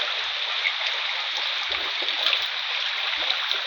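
Floodwater rushes steadily into a rural home's kitchen and cow shed, a constant loud hiss of flowing water with occasional low thumps.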